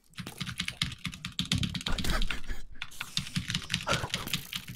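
Rapid, continuous clicking of computer keyboard keys, close and steady, with an irregular burst-like rhythm and one short pause midway during a gaming session.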